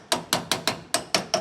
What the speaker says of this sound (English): hammer, just